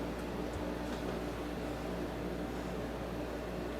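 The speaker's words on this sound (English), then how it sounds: "I do apologize about the air conditioner noise." An air conditioner runs indoors in a soap-making workspace, a steady low hum and broadband whoosh that stays constant and unbroken with no talking.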